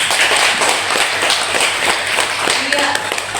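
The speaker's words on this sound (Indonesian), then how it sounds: "beri tepuk tangan" Students in a university classroom give a brief round of clapping, loud and close with a mix of scattered hand claps and taps, blended with people talking.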